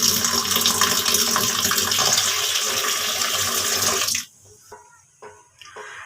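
Tap water gushes loudly and steadily into a kitchen basin where fish are being soaked, then cuts off abruptly, leaving faint drips and small splashes.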